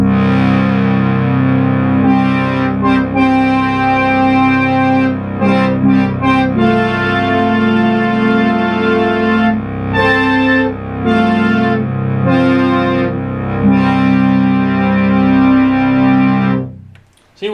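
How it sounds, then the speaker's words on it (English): A Memorymoog Plus synthesizer's sequencer plays a brass horn preset, a loud, buzzy, distorted run of sustained notes and chords that steps through changes and cuts off sharply near the end. "you can hear that's your sequencer data working"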